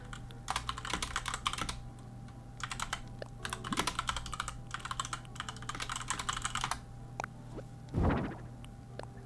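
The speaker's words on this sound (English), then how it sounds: "Keyboard ASMR?" Computer keyboard being typed on in quick bursts of clicky keystrokes with short pauses between, close and clear over a faint steady hum, ending with a louder single thump.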